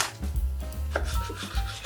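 Green onion is chopped into 2-3 cm pieces with a knife on a cutting board, a few separate close dull knocks against a low background rustle.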